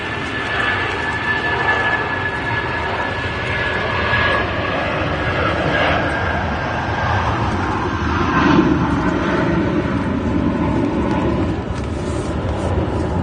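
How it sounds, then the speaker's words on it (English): A British Airways shuttle airliner at Manchester Airport gives off a broad, continuous jet roar that swells slightly and holds steady, heard from a distance outdoors, with no voices. "So we have this British Airways shuttle returning to Heathrow."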